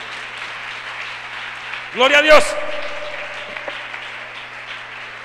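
A church congregation claps through a worship service, a steady wash of applause running the whole way, with a voice calling out briefly in the middle.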